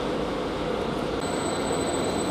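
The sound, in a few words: Greater Anglia train departing station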